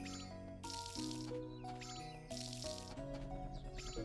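Watering crops in the farming video game Story of Seasons: A Wonderful Life makes repeated splashy, sloshing water bursts over a quiet, continuous melodic game music background.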